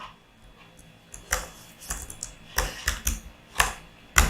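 Keys clacking on a computer keyboard in short irregular bursts, close and fairly quiet, with brief pauses between clusters of strokes and no one talking.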